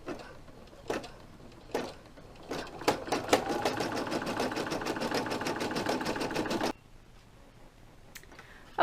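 An embroidery machine stitches vinyl held in a hoop, a fast steady needle chatter running for several seconds after a few separate clicks and taps, close and alone before stopping abruptly.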